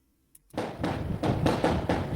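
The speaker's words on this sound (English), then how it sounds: "yeah, that is fireworks. You can hear the like the at the end." Fireworks crackling with a crispy, popping texture, a dense run of bursts starting suddenly after a brief quiet and continuing steadily, heard as background sound from a played video.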